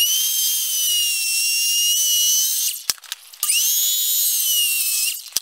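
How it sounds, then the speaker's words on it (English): A power saw cuts a 45-degree angle on a 4x6 timber rafter for a dovetail log cabin: two long, steady, high-pitched whines separated by a brief pause, close and loud, with no talking. "So I'll cut these two pieces here and cut this little 45 on the bottom"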